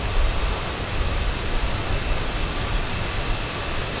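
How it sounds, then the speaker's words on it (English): An Aerosoft CRJ 700 jet applying reverse thrust in Microsoft Flight Simulator, a dense continuous engine roar and rumble, steady and loud with no talk. "Let's do a Russian pushback and show you the reverse thrust as well."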